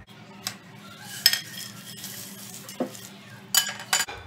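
Homemade chicken masala powder is scraped from a pan onto a plate, giving a few sharp metallic clinks and scrapes of utensils in an otherwise quiet kitchen.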